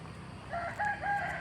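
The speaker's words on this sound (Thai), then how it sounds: "ฟังเสียงไก่ขันนะคะ" A rooster crows at a rice farm home in Ang Thong on a misty morning, a clear, fairly close call that rises and holds over quiet rural background.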